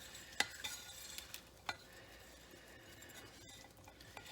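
Raisins and bran being stirred by hand into muffin batter in a large bowl, a low continuous mixing rustle with a few light clinks against the bowl.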